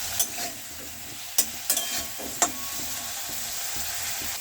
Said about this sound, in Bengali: আর লতিতে দেওয়ার জন্য চিংড়ি মাছগুলোকে ভেজে নেব।